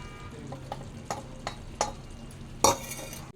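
A utensil scrapes and knocks around a pan as vegetables and fried eggplant are stirred, with several soft clatters and a louder clank near the end.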